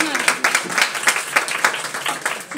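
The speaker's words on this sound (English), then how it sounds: "We'll do a round of applause for" An audience at a volunteer appreciation awards event applauds with quick, evenly pulsing bursts of clapping at moderate loudness for a couple of seconds, with a faint murmur of voices underneath.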